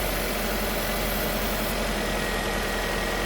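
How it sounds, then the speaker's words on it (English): A Hyundai Ioniq hybrid's engine idles steadily at close range, a smooth, even hum with no speech or other sounds over it. "If you think it's leaking, you will see the engine sound will be different"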